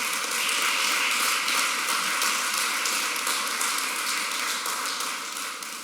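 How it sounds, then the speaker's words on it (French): An audience applauds at a ceremony for the return of a royal treasure to Cotonou, a dense and even wash of many hands clapping that holds steady for several seconds before slowly easing off. "je voudrais demander à tout le monde d'applaudir Pilvi"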